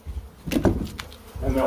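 Killer bees swarming out of an off-grid hive, a buzzing insect hum that swells and fades over a short stretch, with excited voices talking close by and partly covering it.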